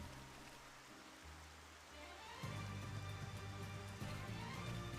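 Rain falling in the video game Xenoblade Chronicles, a soft steady hiss of rainfall that swells noticeably halfway through and continues as a faint, even wash of noise.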